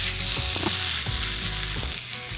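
A Beyond Burger patty goes down on a hot griddle and sizzles loudly and continuously, with a few light knocks and scrapes under the steady frying hiss.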